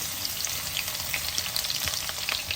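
Coarsely crushed garlic cloves fry in hot oil for pumpkin pulusu, a dense continuous sizzle with faint stirring, close and steady throughout a short stretch without talk.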